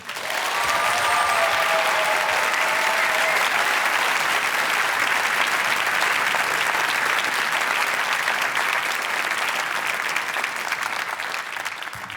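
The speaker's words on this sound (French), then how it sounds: "Merci d'applaudir très fort Fabrice Drouel" Theatre audience at a storytelling evening applauding loudly and steadily as the storyteller is welcomed on stage, sustained dense clapping for the whole stretch.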